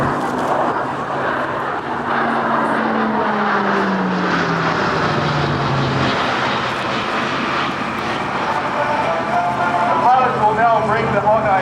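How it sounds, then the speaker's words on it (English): An E-2C Hawkeye turboprop flies a demonstration at a naval air station airshow, its loud propeller drone shifting pitch as it passes, with a public-address voice speaking over it. "It is our pleasure to present the Eyes of the Fleet, the E-2C"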